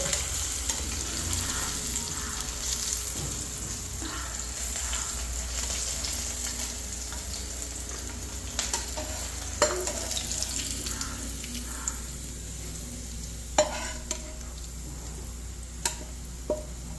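Thin ivy gourd (kovakka) slices fry in coconut oil in a pan, making a steady close sizzle and crackle, with occasional sharp clicks from the utensil and no voices.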